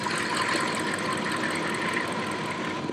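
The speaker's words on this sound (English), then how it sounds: "the engine's been running about 20 minutes and no leaks" A Dodge Ram engine idles after a heater core replacement, having run about twenty minutes; a close, steady, even rumble continues throughout with no voices.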